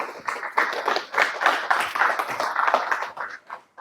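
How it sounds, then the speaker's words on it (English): A round of applause for a councillor at a police auto theft conference, dense steady clapping from an audience lasting several seconds with a brief dip near the end. "Councillor Kalki, I think you deserve a round of applause."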